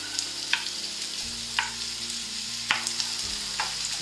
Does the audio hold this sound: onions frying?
yes